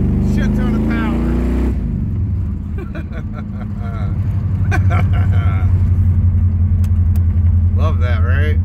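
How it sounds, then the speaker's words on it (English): A 1976 Camaro engine rumbling while cruising, a low steady drone that deepens and grows louder midway, with people talking over it at the start and scattered clicks and knocks throughout. "Listen to that cam purr."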